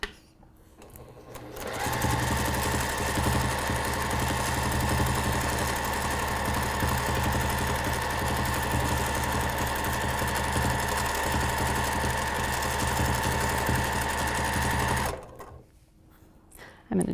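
A sewing machine runs free motion quilting stitches as one continuous, close, steady mechanical whir lasting about thirteen seconds, starting and stopping abruptly, with no talk over it.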